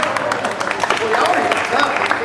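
Brief patter of audience clapping at a massage festival, mixed with crowd murmur and a voice over it.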